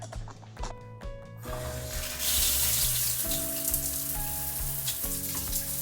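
Water gushes from a newly fitted shower head and hose, a steady hissing spray that starts partway through after some clinks and soft knocks.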